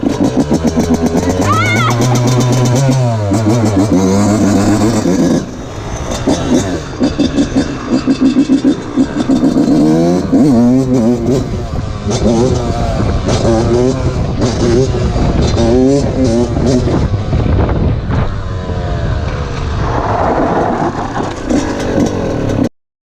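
A motorcycle engine revs repeatedly and loudly nearby, rising and falling in pitch, with people talking over the roar throughout.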